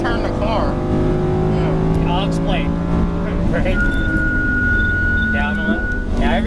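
Front-engine race car on a track, loud engine note sweeping up and down as it accelerates and shifts gears, steady and close, with people talking over it.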